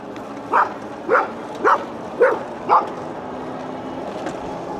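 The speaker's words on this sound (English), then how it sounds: "This dog always greets me when I come this way." A dog greets a passer-by near a small cemetery with five evenly spaced barks, moderately close, over the steady hum of a motor.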